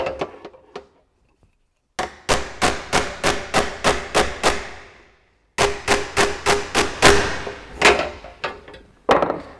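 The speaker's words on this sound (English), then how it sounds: "Let's see what we can do with the hammer." A hammer strikes the steel rear panel of a 1934 Ford Coupe Ute in quick even bursts of sharp metallic blows, close and loud, with short pauses between runs.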